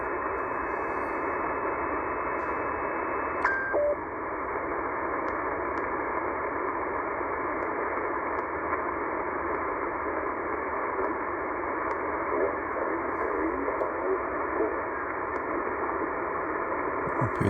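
A shortwave receiver tuned near 11 MHz gives out a steady band-limited hiss of static with a brief tone near the start, faint and unbroken throughout, with no clear voice.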